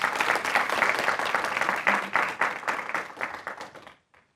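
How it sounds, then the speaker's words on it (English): Sustained applause fills a hall at a county executive's progress report event, a dense crowd clapping for about four seconds before quickly dying away. "Let's give a big round of applause for Dr."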